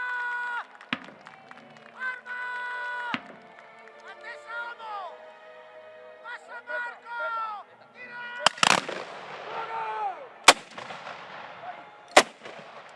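Cannon and musket shots from a historic Venetian infantry regiment reenactment, several sharp loud blasts in the latter half, with crowd noise and chatter around them.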